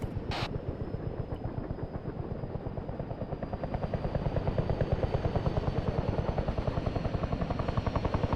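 A helicopter in the Arma 3 video game spools up its rotors, a steady rhythmic thudding that grows louder and faster partway through, with a whining engine drone beneath and no voices.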